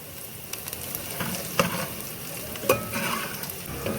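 Onion, cumin, dried red chilli and black cardamom sauté in a pan for dhaba-style daal mash, giving a continuous sizzle with scattered spoon-stirring clicks up close.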